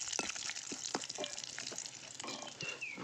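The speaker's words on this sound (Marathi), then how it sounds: "हलवून घ्यायचं हे." Cumin, mustard seeds, garlic, curry leaves and turmeric sizzle and fry in a pan as they are stirred, a steady close hiss with scattered crackles and light scraping taps, no talk.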